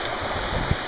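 Shallow stream water flowing and rushing around someone's feet while wading after heavy rain, a steady close broadband wash with a small splash near the end.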